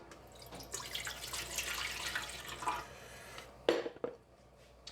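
Water poured into a bread machine pan, a broad splashing stream running for a few seconds near the mic before a couple of sharper clinks and splashes at the end.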